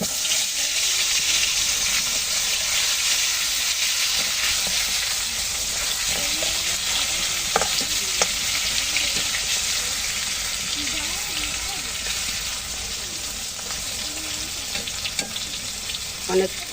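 Eggplant slices fry in hot oil in a wok for a Bengali khichuri meal, giving a steady, close sizzle that runs throughout with occasional stirring clatter and small pops.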